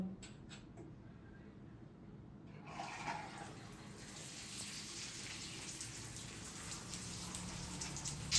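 Water runs steadily over shampooed hair as it is rinsed, a soft continuous splashing that starts quietly and swells after a few seconds, close and without voices.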